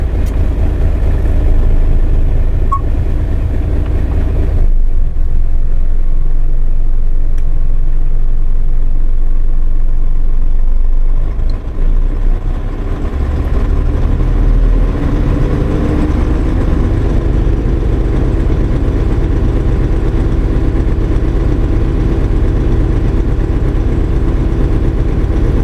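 A HINO diesel commercial truck engine idles steadily with its tilt cab raised, giving a continuous loud low rumble that shifts slightly in tone partway through, with no speech.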